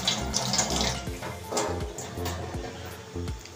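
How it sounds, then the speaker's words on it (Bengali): Hands are washed under a running tap, with water splashing and gurgling close by into a sink in an uneven, rushing stream. "তাই এখনও আমি চলে এসেছি একটু হাত ধুতে।"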